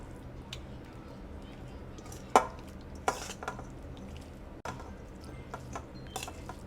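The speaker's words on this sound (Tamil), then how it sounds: "அது வந்து நம்ம ஊற்றி கலந்துக்கலாம்" A tomato mixture being stirred into cooked rice with sesame oil, with soft scraping and a few sharp clinks of a spoon against the pot over a quiet background.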